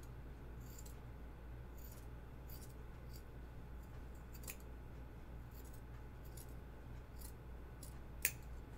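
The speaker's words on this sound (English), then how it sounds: "Let me hack it with these scissors that are just kind of bad right now." Dull scissors snipping through fabric while trimming a sagebrush top during sewing, giving quiet, irregular short cuts over a steady low hum, with one sharper snip near the end.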